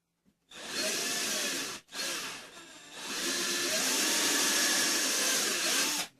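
A power drill bores through pine into plywood with a loud, steady whir that breaks off briefly and then runs on continuously at full strength.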